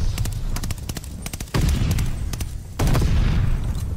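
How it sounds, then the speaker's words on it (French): Heavy gunfire and blasts erupt in a Call of Duty Vanguard multiplayer match, with rapid shot bursts and two loud booming impacts, near and dense. "Grenade!"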